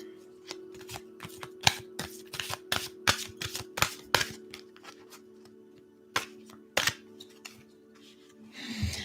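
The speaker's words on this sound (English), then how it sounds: "let's take one more card from the Sacred Rebels." Oracle cards from a Sacred Rebels deck are shuffled in quick papery riffles and flicks, close and crisp, with a steady low hum underneath and no talking.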